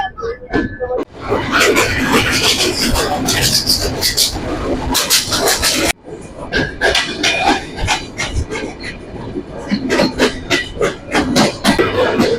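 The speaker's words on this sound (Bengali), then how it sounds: "জাহানাবাদ এক্সপ্রেস তার পথের প্রথম রেলওয়ে স্টেশন নোয়াপাড়া প্রবেশ করতেছে" Jahanabad Express running on rails as it enters Noapara station, a steady loud rumble with rhythmic rail clatter and a brief break midway, with voices heard over it.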